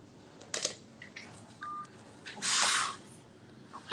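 Telephone keypad tones during a call, a few scattered short beeps with hissy bursts between them over low background noise.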